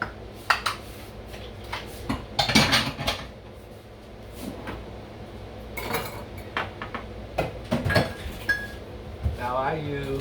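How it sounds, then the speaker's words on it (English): Bowls cleared away in a kitchen while preparing a chocolate cheesecake: clinking crockery, clattering cutlery and knocks of dishes in irregular bursts, fairly close, with no talk. "Get rid of some bowls here."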